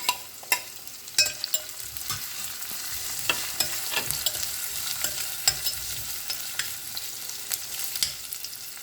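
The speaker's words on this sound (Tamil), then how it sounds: "ஓரளவுக்கு வதங்கியிருக்கோம்." Garlic, ginger and large green chillies sauté in a pan with a continuous close sizzle. Irregular scrapes and taps from a stirring spoon break through it, and no one speaks.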